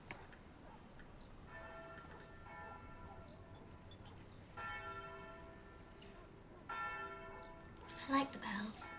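Church bells ring in slow, repeated strikes with long sustained tones, fairly distant and soft over a quiet indoor background.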